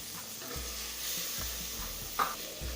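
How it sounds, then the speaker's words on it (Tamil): Meal maker being sautéed with carrots, beans and capsicum in a pan: a soft, steady sizzle with a few light stirring scrapes and one brief clink, close and fairly quiet. "இப்போ இதை நல்லா வதக்கிக்கலாம்"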